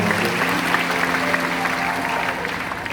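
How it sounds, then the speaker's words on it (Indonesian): A crowd claps continuously in dense, even applause, moderately loud and sustained without breaks. "Boleh berikan tepuk tangan yang paling meriah"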